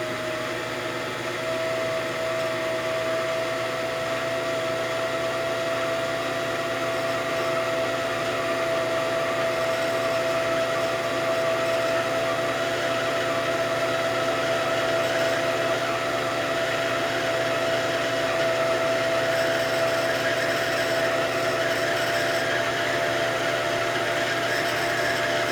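Sewing machine winding a bobbin at a set speed, heard as a steady, continuous motor whir with a constant pitch, moderately loud and unbroken throughout, with no talking over it.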